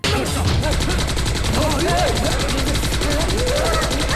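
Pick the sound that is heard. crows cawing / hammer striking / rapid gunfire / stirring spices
rapid gunfire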